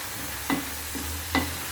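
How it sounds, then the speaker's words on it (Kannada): Tomato sauce bubbling in a pan over a high flame, a steady low simmering hiss punctuated by two distinct soft pops of bursting bubbles, close and alone without voices. "ಈಗ ಫ್ಲೇಮನ್ನು ಜಾಸ್ತಿ ಮಾಡ್ಕೊಳ್ಳೋಣ. ಸೊ ಇದು ಸ್ವಲ್ಪ ಚೆನ್ನಾಗಿ ಕುದೀಲಿ"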